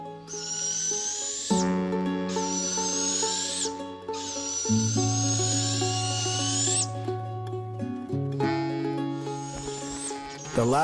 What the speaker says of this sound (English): The chicks squabble over who gets enough breakfast.